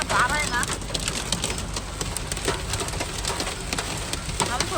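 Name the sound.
hail hitting the car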